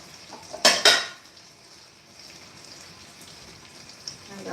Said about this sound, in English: I'm going to put it into one of my Mikasa bowls